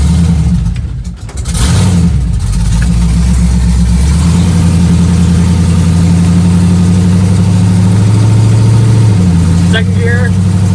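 A 1972 Chevrolet Nova with a swapped LS 5.3 V8, BTR cam and built 4L60e automatic pulls away loudly. A droning engine note rises steadily, then drops as it shifts near the end, heard from up close with a voice speaking over it.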